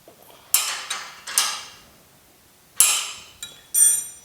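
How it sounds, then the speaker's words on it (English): Wrench tightening a nut on a car frame jig during chassis boxing on a GTO restomod: a few sharp metallic clanks and ratcheting strikes in separate bursts, close and loud, with quiet gaps between. "let's get this nut tightened up"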